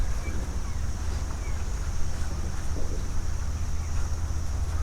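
Steady wind blows outdoors as a continuous low rumble with a constant hiss, loud and unbroken throughout, with no clear gusts or pauses.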